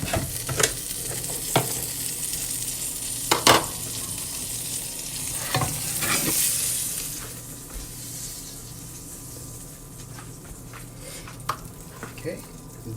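Chicken fries in butter in an overly hot pan with a continuous close sizzle, punctuated by clinks and scrapes of utensils as the pieces are laid in and moved, with a voice briefly audible.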